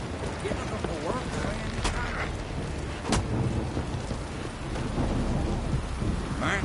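Steady rain pours over a stormy night in the video game The Witcher 3, with sharp thunder cracks and rolling rumbles breaking through the constant hiss.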